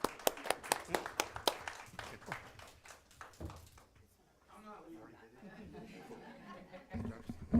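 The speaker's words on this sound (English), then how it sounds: "I think we can clap for that one." A handful of people clap at a city council meeting, a brief scattered burst of claps lasting a few seconds, followed by chuckles and quiet chatter and talking.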